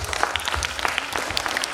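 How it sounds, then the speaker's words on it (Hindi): Parents at a school annual function clap together in a brief, dense burst of applause, close and continuous. "यदि आ चुकी है तो एक बार तालियां बजा दें।"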